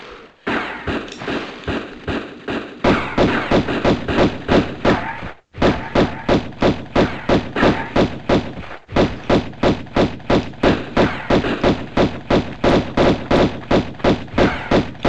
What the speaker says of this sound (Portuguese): Vamos agora meter tiro no Larson